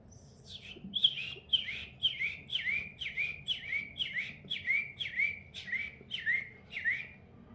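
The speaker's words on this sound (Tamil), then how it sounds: "இது தேன்சிட்டு." A sunbird sings a rapid run of about fourteen sharp, high chirps in steady rhythm, clear and close against a quiet low background.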